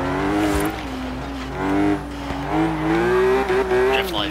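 A BMW drifting in the racing game Forza Horizon 3, its engine droning steadily while the tires squeal in long wavering tones throughout, loud and close, with no talking.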